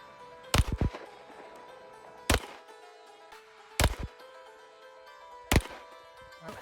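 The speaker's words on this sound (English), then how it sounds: "We're gonna shoot at the vest." A Glock Model 40 10mm pistol is fired outdoors at a bulletproof vest on a Montana ranch. Four sharp, loud shots come at irregular intervals, some followed by quick echoing cracks, with low background noise between them.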